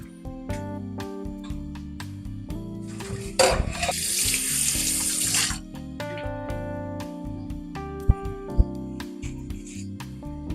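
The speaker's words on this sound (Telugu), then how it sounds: "మంచిగా ఫ్రెష్ మటన్ తీసుకొని కడిగి ఫ్రెష్ అయితే ఒక 2-3 టైమ్స్ కడిగితే అయిపోతుంది" Tap water runs steadily into a sink while fresh mutton is rinsed by hand, with a louder gushing stretch in the middle and occasional knocks and splashes, over a constant background hum.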